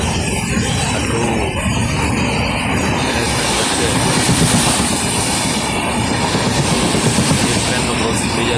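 A passenger train rumbles past another train at a crossing near Dwarka, close and loud, with continuous rolling wheel noise and clattering carriages under a faint voice.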